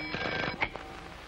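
An old-style telephone bell rings in a short burst, bright and metallic, clear against a quiet background with no voices.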